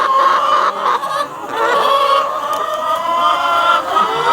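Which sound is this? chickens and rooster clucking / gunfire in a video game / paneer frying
chickens and rooster clucking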